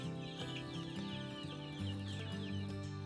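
Chickens cluck steadily inside a coop that has been converted from a shed into a tiny house, with several overlapping low clucks close by and continuous through the whole clip.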